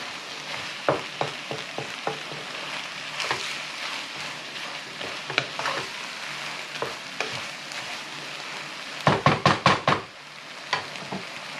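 A vegetable stir-fry sizzles and bubbles in a pan as the liquid cooks away, with a utensil knocking and scraping against the pan in quick strokes, including a fast flurry near the end.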